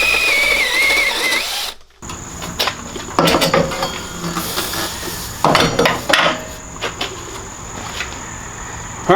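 A unibit step drill bit cuts into metal in bursts. Each bout brings a high-pitched grinding whine and scraping chatter, with short pauses between. It sounds close and loud, with no talking.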